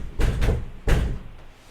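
A door at a house moves twice in quick succession, two dull thuds followed by a third heavier bump, loud and close with a short rumble trailing off.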